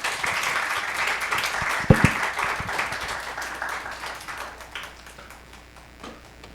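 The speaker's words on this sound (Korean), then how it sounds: "큰 박수로 청해 주시면 감사하겠습니다" A lunchtime audience at a live talk gives warm applause to welcome a guest speaker, with steady clapping that fades gradually, one sharp knock partway through, and a voice faintly heard.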